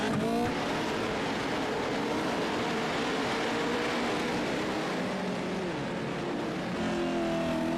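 Racing truck engines drone loudly and steadily in the iRacing video game on the Crandon short course, a dense continuous roar with shifting pitch as several trucks run together.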